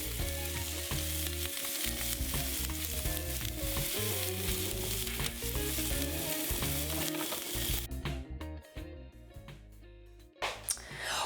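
Chicken sizzling on a barbecue grill for a Caesar salad, a continuous crackling fry that holds steady for most of the stretch before dropping away near the end, with no talking.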